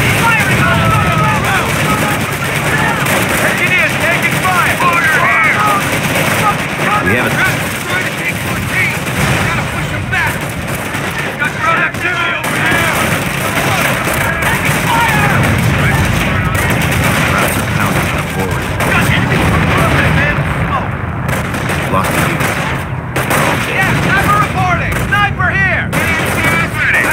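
Gunfire and artillery in Company of Heroes during the Mortain battle, a loud, continuous wash of machine-gun bursts, shots and heavier booms under frequent battlefield voices throughout.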